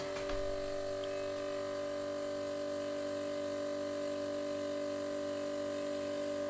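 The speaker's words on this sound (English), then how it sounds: "Sorry for the noise, this is the compressor" A steady, constant mechanical hum with a droning tone runs throughout, like an air compressor motor running nearby, unchanging from start to end.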